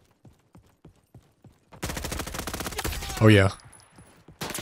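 Rapid automatic gunfire from a Call of Duty-style Roblox shooter rattles in a dense burst after a few sparse single shots, loud and close, with a player's voice briefly cutting in.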